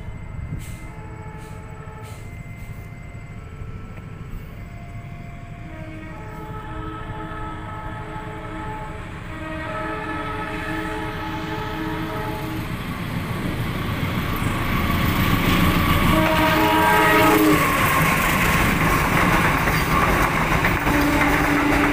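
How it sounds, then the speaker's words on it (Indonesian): A commuter train hauled by a long-nose locomotive approaches a rail shelter and passes, sounding a series of loud, sustained horn blasts while the rumble of the wheels and cars swells steadily toward the end. "Kereta api komuter hidung panjang, lokomotif hidung panjang itu guys."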